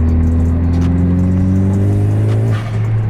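Honda Civic Si (10th gen) engine fitted with a PRL Cobra cold air intake, a loud steady drone with rising harmonic tones as it revs, close and continuous for about three seconds with a brief dip near the end.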